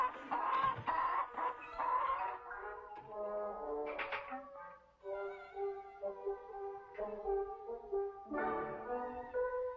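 Hens cluck and squawk close by in a rural setting, a busy run of overlapping calls throughout, fairly quiet overall.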